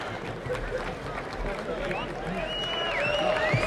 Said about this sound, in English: This crowd buzzing right now at the end of the first round.